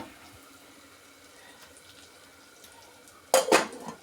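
A lid is set onto a cooking pot during preparation of a Kerala home-style curry, heard as a sudden pair of loud metallic clanks after a long stretch of quiet kitchen background.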